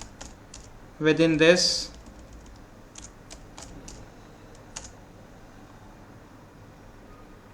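Someone types C++ code on a computer keyboard with sparse, faint, light key clicks scattered across the stretch, briefly interrupted by a short burst of voice near the start.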